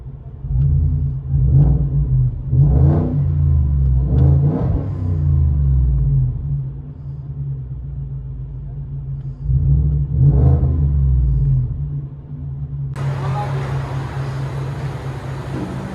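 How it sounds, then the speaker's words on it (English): From inside the cab of a 2020 Ford F-150 5.0-liter V8 with its mufflers deleted, the exhaust drones low and heavy with a handful of quick rev swells, some close together and one later on its own. "Let you guys hear on the inside."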